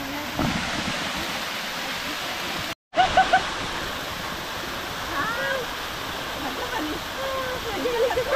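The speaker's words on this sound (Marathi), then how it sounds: "वॉटरफॉल छोटा आहे" A small waterfall in a forest rushes as steady broadband noise, with a brief dropout partway through and faint bird chirps over it.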